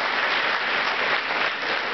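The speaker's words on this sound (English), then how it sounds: "please give them a round of applause" Brief, steady crowd applause at a North Brandywine Middle School event, honoring family members with an even wash of clapping and no voices over it.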